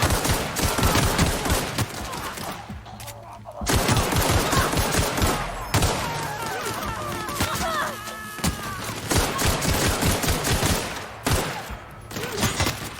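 An LMG in The Outer Worlds fires in long, loud bursts, strings of rapid shots broken by short lulls, with heavy impacts mixed in and no talking.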